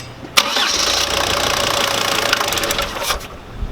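Car engine cranking and catching after an EGR gasket check and repair, with a sharp start followed by a steady, rough running rumble that fluctuates and stays loud and close.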